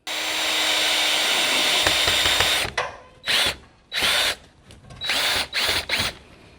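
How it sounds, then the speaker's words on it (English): A power drill drives screws into a security camera mount on a homestead, a long steady whine followed by several short bursts of the motor, loud and close with no talking. "then you can put the 2 bottom screws in and tighten them all down"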